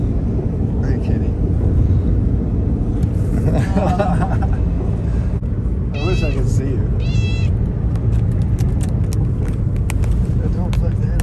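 A house cat meows a few times at close range, short rising calls heard over steady engine-like rumble and background noise, with people talking throughout.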